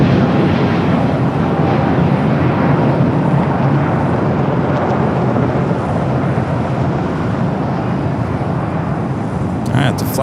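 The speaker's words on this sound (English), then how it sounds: "the flight heading back to Tokyo Haneda in that A350 1000" A Japan Airlines Airbus A350-1000 takes off from LAX bound for Tokyo Haneda, a loud, sustained jet roar that stays strong and even from start to finish.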